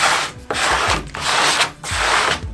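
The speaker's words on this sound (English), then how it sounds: "Take your squeegee." Squeegee dragged firmly across vinyl laid onto a screen-printing screen, three long broadband rubbing strokes in steady succession, close and loud with no talking.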